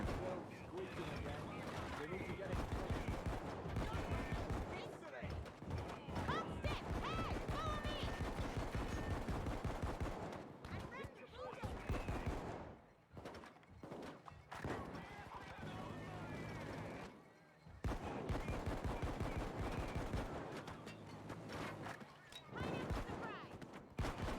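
Miniguns firing in Payday 2, long stretches of dense rapid gunfire mixed with other combat noise, loud and continuous, broken by a few short pauses.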